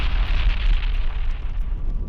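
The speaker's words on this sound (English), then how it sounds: "That was a much bigger explosion than I was expecting." A large explosive charge detonates in a demonstration of First World War explosives, producing a loud, sustained rumbling roar and blast wash that fills the moment, heavy in low end and close.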